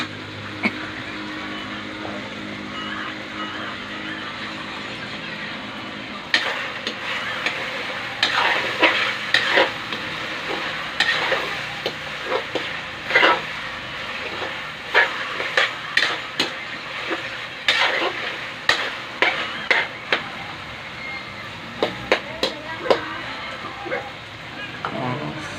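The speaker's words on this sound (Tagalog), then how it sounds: "Oop, nakulo na." Adobo with string beans, okra and eggplant cooking in a pot, heard as a steady sizzle and bubbling with a run of sharp clinks and scrapes of a utensil against the pot, while a person speaks now and then.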